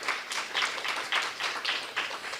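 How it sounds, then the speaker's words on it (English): Applause at a Detroit community homeownership program celebration, a moderate, steady patter of many hands clapping with slight swells, moderately distant and continuous throughout with no talk. "Yes, round of applause."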